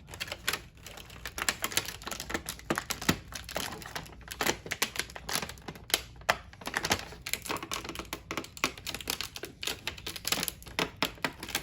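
Crinkly plastic and cardboard packaging rustles and taps steadily at close range as a new AHM ATSF reefer model train car is pulled from its box, with no talking.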